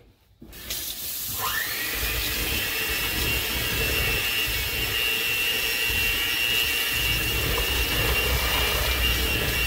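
Tap water runs steadily and loudly while a blender jar is rinsed in a home kitchen, a continuous broadband rush starting after a brief quiet moment and holding for the rest.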